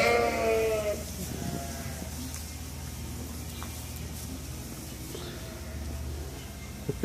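A black sheep on a farm lets out a clear, close bleat at the start, then the sound settles into quieter farmyard ambience with faint low background noise.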